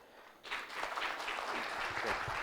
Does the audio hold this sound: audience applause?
yes